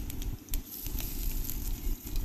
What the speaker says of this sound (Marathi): जिरं तडतडलेलं आहे